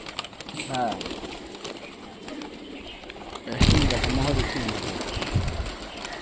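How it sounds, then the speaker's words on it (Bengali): Rajshahi giribaz pigeons flying and cooing outdoors, with soft coos and bird calls heard near the microphone through steady background noise, while a person talks intermittently. "সব দেখে সব কবুতর উড়ে আছে।"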